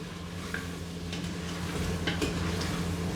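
Potatoes added to beef aloo gosht in a cooker pot give a steady, soft sizzle of frying and stirring, with a few faint scrapes and clinks of a spoon, close by and continuous throughout.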